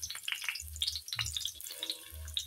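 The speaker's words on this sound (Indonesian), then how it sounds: "Yang kita tumis terlebih dahulu adalah bawang merah dan bawang putihnya" Oil sizzles and crackles in a pan as shallots and garlic sauté, with scattered pops and light scraping, a soft steady frying sound close by.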